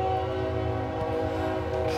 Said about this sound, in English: Of course, the train.